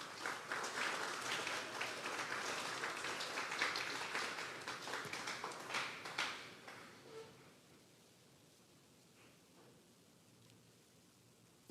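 A church congregation at a Bible study service applauds steadily for several seconds, the clapping thinning and fading out into silence.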